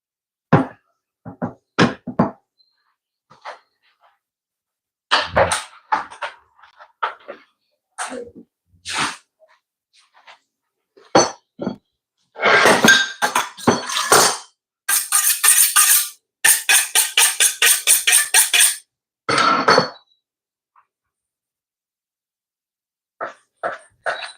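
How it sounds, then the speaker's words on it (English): A dull chef's knife being sharpened in a kitchen during steak preparation: scattered scraping strokes early on, then a steady run of rapid, rhythmic back-and-forth strokes in the middle, loud and close, with silent gaps between bursts. "Now this knife getting a little bit dull, so I'm gonna have to sharpen it back again."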